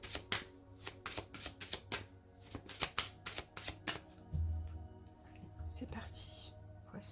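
Oracle cards are riffled and shuffled close by in quick, crisp bursts of flicking card noise, followed by a few softer slides, while a person speaks quietly.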